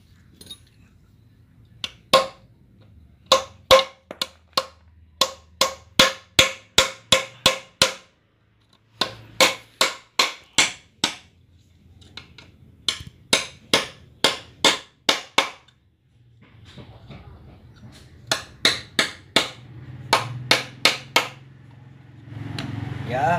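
A screwdriver taps out a bicycle fork headset bearing race in repeated bursts of sharp metallic strikes, each burst made of many quick, evenly spaced hits, close and loud, with short gaps and some background noise between.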